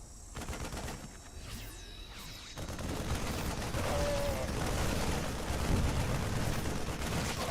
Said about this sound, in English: Let me grenade this.